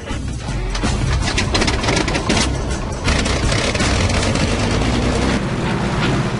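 Small aircraft engine roaring steadily at close range as it starts and taxis slowly at around 9 mph, with loud rattling and clattering bursts over the continuous drone.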